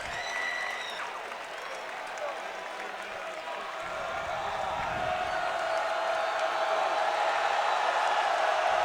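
An NC State basketball arena crowd hosting Maine swells into loud applause and cheering around a free throw, rising steadily into a dense roar.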